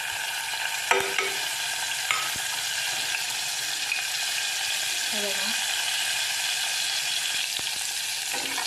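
Green chillies and cumin sizzle in hot ghee, a steady broadband fry with a few sharp scrapes and clicks of a spoon stirring the pan; no one speaks.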